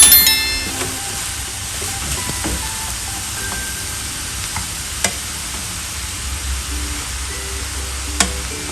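Food frying in a pan and being gently stirred, with steady soft sizzling, faint scraping and a couple of sharp clinks of the utensil against the pan.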